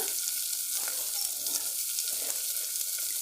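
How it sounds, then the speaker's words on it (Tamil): Large onions sizzle steadily in a hot pan while frying for brinjal curry, a continuous bright crackle of frying with no voices. "பெரிய வெங்காயம் பொடியை நறுக்கி வச்சுருக்கேன் அது இது கூட சேர்த்துட்டு நல்லா வதக்குங்க"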